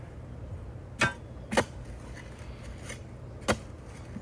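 Digging into rocky ground for fence building gives a few sharp, distant metallic strikes and scrapes spaced irregularly over quiet outdoor background, faint overall.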